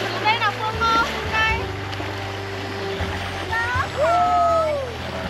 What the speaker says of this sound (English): playing and swimming in the river together.